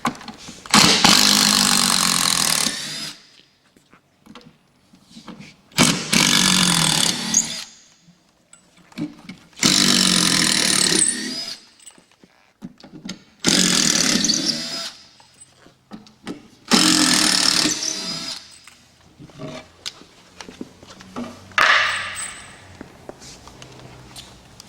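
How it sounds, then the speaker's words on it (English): A power drill backs screws out of a 2x4 on the shipping crate of a Harvest Saver machine, in five loud bursts of a whirring motor separated by short pauses and light handling clatter. "we're going to go ahead and remove the next 5 screws on this 2x4 from the right hand side"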